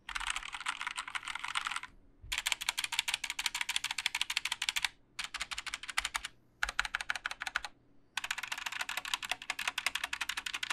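Rapid clacky keystrokes typed on a mechanical keyboard in several bursts with short pauses, close and steady.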